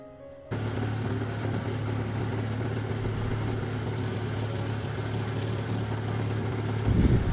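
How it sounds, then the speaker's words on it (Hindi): A tractor pulling a ridger that cuts furrows in a hot sugarcane field in Uttar Pradesh, India, its engine droning steadily and loudly close by, with no talk over it and a slight surge near the end. "यहाँ पर लगातार ट्रैक्टर के पीछे ये जो अटैचमेंट लगा है इसे रेजर बोलते हैं, जो नालियाँ बनाने का काम कर रहा है"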